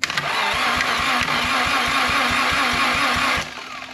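A 1991 Honda Civic EF engine cranks on its starter during a compression test, a fast even chugging rhythm of roughly four beats per second that runs without firing and then cuts off.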